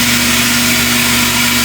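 A Fusion tire changer's tool head lowers toward a motorcycle tire during a bead change, giving a steady, loud mechanical hum with a constant low motor drone and no talking.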